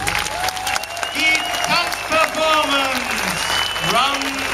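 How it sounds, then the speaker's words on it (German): A crowd at an outdoor laser show in Gelsenkirchen's Nordsternpark claps steadily, with cheering and whistles rising over the crowd noise, while a voice speaks over the sound system. "bitte ich Sie um einen phänomenalen Applaus für die Akteure des Abends"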